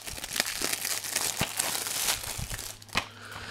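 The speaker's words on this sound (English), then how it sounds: "Let's go ahead and unwrap this." Plastic shrink wrap is torn and crinkled off a PS4 NBA 2K14 game case, giving close, continuous crackling with a few sharper rips and crunches partway through.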